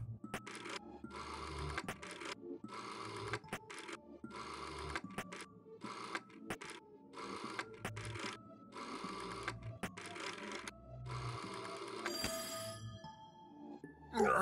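In the video game There Is No Game, an old telephone rings insistently in repeated bursts of rattling bell tones with short gaps, close and loud, ending in a brief clatter.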